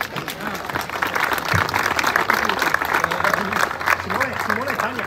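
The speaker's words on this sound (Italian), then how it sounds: "Chissà perché l'applauso, quello sui dolci, è stato ancora maggiore." Crowd applause at the podium prize-giving of the 108th Targa Florio rally in a town square, a steady dense clapping that runs the whole time beneath someone talking over it.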